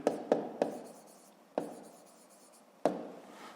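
Numbers written by hand with a pen on paper, a few sharp tap-like strokes followed by soft scratching, close and quiet with gaps between marks.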